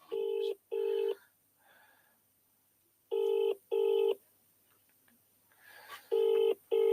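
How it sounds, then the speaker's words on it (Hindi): Telephone on speakerphone sounds a series of paired ringback tones, loud and evenly spaced in three bursts, with faint murmuring voices in the quiet gaps between them. "देखो मैं तुम्हारे सामने फोन लगा के बोल दूंगा"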